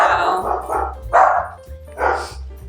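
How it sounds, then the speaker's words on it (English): A dog barks several times close by, sharp repeated barks over a low steady hum of music or room noise. "I've had all the barking. There's nothing I could do about that."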